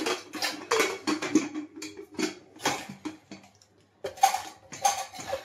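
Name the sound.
closing the lid of a pressure cooker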